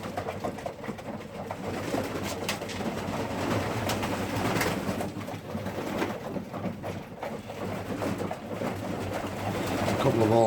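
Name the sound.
racing pigeons cooing in loft while being fed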